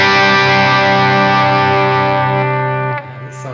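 A sustained electric guitar chord rings out heavily distorted through a Chandler GAV 19 T tube amp, loud and thick, then is cut off near the end with a faint scrape.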